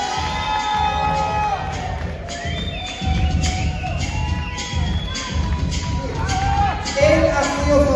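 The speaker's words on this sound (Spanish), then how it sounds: "fuerte el aplauso para la inmune de esta semana" A studio audience at a live entertainment show in a discotheque cheers and applauds, with whoops, shouts and crowd noise over dense clapping, a host's voice rising through the din and a loud surge near the end.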